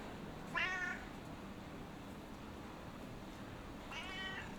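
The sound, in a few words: cat meowing in video game Broken Sword: Shadow of the Templars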